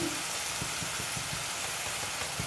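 Garlic paste sizzling in a frying pan while cooking coral fish, a steady loud hiss and crackle with soft stirring thumps.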